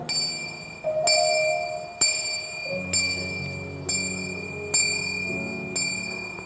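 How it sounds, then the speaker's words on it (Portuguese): A ship's bell rings in a regular rhythm, about one clear metallic strike per second, each stroke leaving a long ringing tail, with a low hum underneath. "E o sino ainda tocava."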